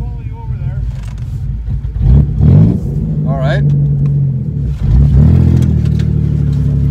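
Car engine in a dead car compound cranks, catches and revs, then rumbles steadily and surges again as the car pulls away, loud and close, with brief talk over it.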